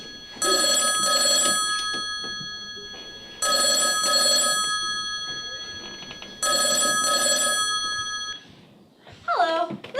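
A telephone bell rings three times in evenly spaced bursts, each a bright double trill that fades out, loud and near, followed by a short voice at the end.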